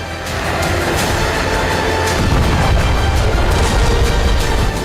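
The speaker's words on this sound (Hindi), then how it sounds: "रूसी सेना की आर्टिलरी की ताकत का अंदाजा इन धमाकों से लगाया जा सकता है" Russian artillery shelling thunders in the open as a continuous heavy roar with deep booming bursts, loud and sustained, with no talk.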